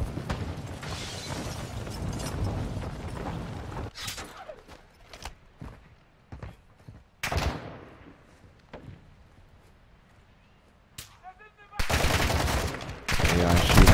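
Bursts of gunfire from the DMZ shooter game, loud rapid volleys at the start and again near the end, with scattered single shots, clatter and footsteps in the quieter stretch between.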